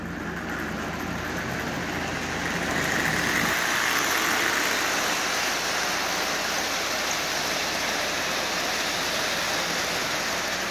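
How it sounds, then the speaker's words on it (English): A Lionel 8142 model train locomotive runs on track pulling sixteen Lionel cars, giving a steady, dense motor whir and rolling rumble that grows slightly louder after a few seconds and continues evenly, with no voices. "Let's see what happens pulling 16 Lionel cars."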